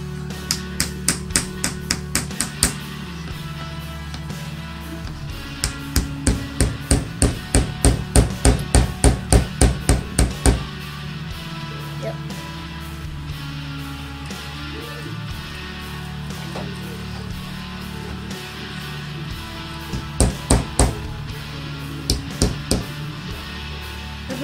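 A hammer strikes a chisel to chip the plaster block of a children's dinosaur excavation kit. Rapid bursts of sharp metallic taps repeat in runs with quieter gaps, and faint voices talk between bursts.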